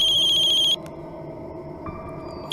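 A loud electronic phone ringtone plays briefly and stops abruptly, leaving a low steady hum behind it.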